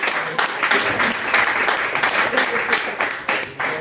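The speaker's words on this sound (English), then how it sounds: "Let's have a nice round of applause for our host, Kevin, doing a great job." A comedy club audience claps loudly and steadily for a few seconds, a thick and continuous burst of applause that fades a little near the end.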